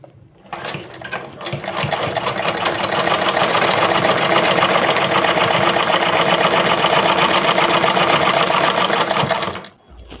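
Sewing machine stitching a salwar runs in a steady, loud, continuous whir for most of the stretch, starting and stopping abruptly, with no talking.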